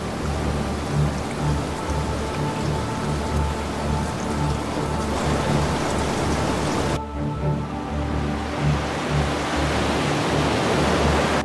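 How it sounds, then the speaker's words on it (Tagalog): Heavy rain driven down by a downburst pours in a dense, steady roar of water hitting surfaces, loud and continuous with no pauses or voices. "Itinutulak nito ang ulan pababa ng buong puwersa, kaya bigla itong bumabagsak na parang isang higanting alon mula sa langit."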